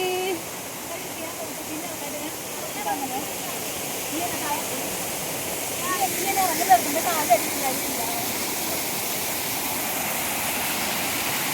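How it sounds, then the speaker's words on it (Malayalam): A waterfall at a bathing spot pours in a constant broadband roar, close and steady throughout, with faint voices and a few small splashes now and then. "ഇതാണ് നമ്മുടെ വെള്ളച്ചാട്ടം"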